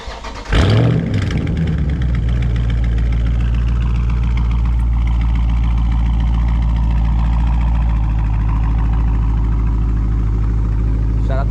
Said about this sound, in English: Of course, I can't leave y'all without a cold start.